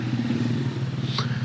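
A motorcycle is wheeled or ridden in through an entry gate at Naltar Valley, Gilgit. Its engine rumbles steadily and close by at low revs, and a brief higher clatter rises near the end.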